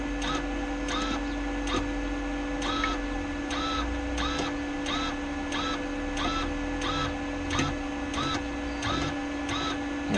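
A MIG welder feeds wire through its torch with a steady mechanical whir and a regular rhythmic clicking, near and even throughout, with no talk.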